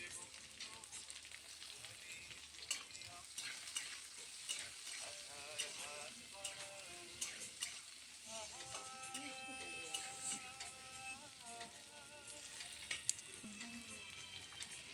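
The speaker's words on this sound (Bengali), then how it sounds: "পেঁয়াজ দিয়ে আবারও ভালোভাবে মিশিয়ে নিচ্ছি।" Potatoes and sliced onion fry in a pan while being stirred, a steady sizzle broken by scraping and clinking of the spatula, with faint talk in the background.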